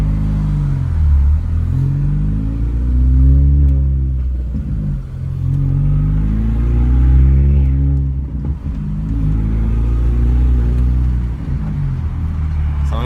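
A straight-piped R53 Mini Cooper S drives by with a loud, raw, booming exhaust drone that swells and dips as it accelerates, close and dominant throughout with no talking.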